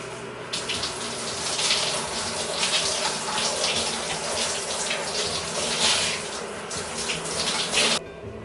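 Water from a tap runs steadily as a hair mask is rinsed out of hair, a continuous close splashing hiss lasting several seconds before cutting off abruptly near the end.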